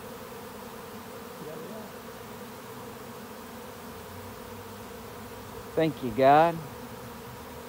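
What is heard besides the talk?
honey bee swarm landing on a box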